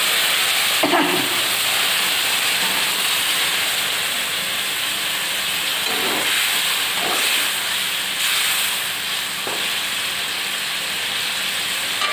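Hot water poured into a simmering sole fish curry makes a loud, continuous steamy hiss that stays broad and even, with a few faint clinks along the way.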